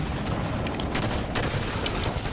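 Rapid automatic gunfire from a Halo 5 multiplayer match rattles in dense, steady bursts with a low booming bed underneath, loud and continuous throughout.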